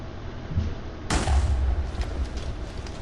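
A nuke goes off over a village in a video game: a sudden sharp blast after a brief lull, followed by a sustained low rumble and scattered crackles that carry on to the end.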